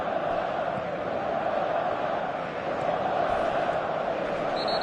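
A large football stadium crowd at a Barcelona match roars in a steady, dense wash of cheering that holds throughout, broad and sustained with no breaks.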